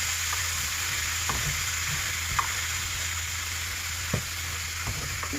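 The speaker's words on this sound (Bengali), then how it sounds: "এখন শাকগুলো দিয়ে দেবো, মূলা শাকগুলো। তো এখন নেড়ে নেব।" Radish greens and shrimp sizzle steadily in a hot pan, with a constant frying hiss and a few soft scrapes as they are stirred, close and without talk.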